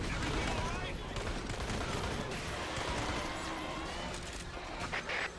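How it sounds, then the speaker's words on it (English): Enemy artillery fire in Earth Defense Force 5, a dense, continuous barrage of loud bursts and crashing blasts, with voices speaking over the din. "We are under the enemy's artillery fire."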